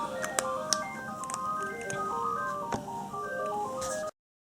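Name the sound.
telephone ringing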